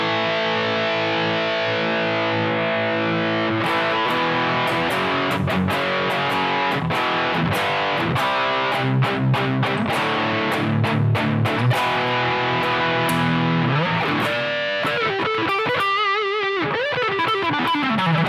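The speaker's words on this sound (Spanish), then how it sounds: "La distorsión de este lado también." Heavily distorted electric guitar through a T-Rex Mean Machine pedal, thick sustained chords followed by chugging muted riffs and quick choppy strums, ending with a few bending notes, played alone and loud.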